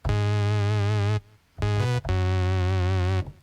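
A clean synth bass with its effect pedal off plays sustained low notes in two phrases with a brief gap, smooth and somewhat dull in tone.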